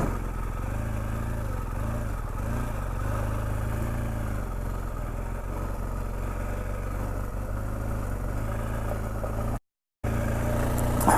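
A heavy 300 kg BMW GS adventure motorcycle engine drones steadily while riding over cobbled French streets, a continuous low rumble with wind noise and a brief dropout near the end.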